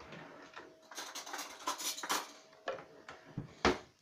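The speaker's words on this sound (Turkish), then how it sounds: "Domatesi kaşık yardımıyla dökmem gerekecek galiba." Chopped tomato for a tomato-sauce pickle being spooned into a jar, quiet irregular clinks and scrapes of a spoon against glass with soft wet plops, close up with no voices.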